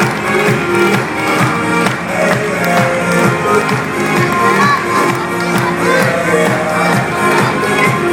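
A large audience at a fashion show keeps up continuous loud cheering and crowd noise throughout, dense and sustained with shouts mixed in.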